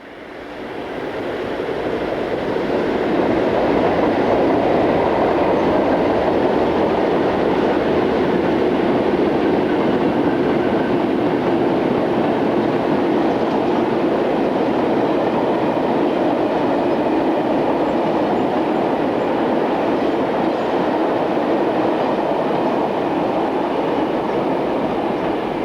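SNCF electric locomotive 12073 runs with a BB16500 near the marshalling yard at Woippy outside Metz, a long loud steady roar with rolling rail clatter, close and sustained.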